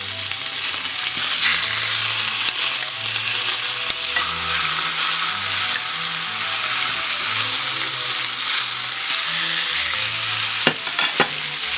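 Two pounds of salted chicken thighs fry in a pan for chicken korma, giving a loud, continuous sizzle with occasional stirring scrapes and knocks throughout.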